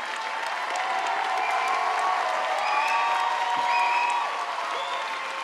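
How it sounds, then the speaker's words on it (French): Sustained applause from a concert audience in Guadeloupe after an orchestra performance fills the whole stretch, an even dense clapping that swells slightly midway, with no distinct voices over it. "Je crois que ça mérite encore plus d'applaudissements."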